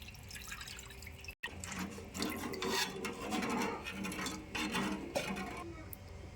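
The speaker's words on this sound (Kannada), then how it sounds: "ಮಜ್ಜಿಗೆ ಸೇರಿಸ್ಕೋಬೇಕ್ರಿ." Buttermilk pours into a cooled seasoning for masala buttermilk, a close, uneven liquid splash and trickle after a brief gap, with soft rubbing noises.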